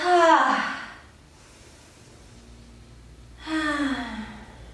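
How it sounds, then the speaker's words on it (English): Two audible breaths during a yogalates session, one at the start and another near the end, each a soft, airy rush through the mouth, separated by a quiet stretch. "Take another breath here. Exhale through your mouth."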